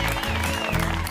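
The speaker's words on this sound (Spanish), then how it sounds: "fuerte el aplauso" Studio audience applauding as a dance group called Son Koi is welcomed onto an Argentine TV variety show, a dense steady patter of clapping with a host's voice over it.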